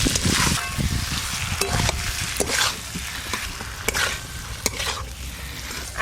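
Fried potatoes go into Kashmiri aloo dum in a pan, hissing and sizzling loudly while a spoon scrapes and stirs in irregular strokes, with sharp clicks of utensil against the pan.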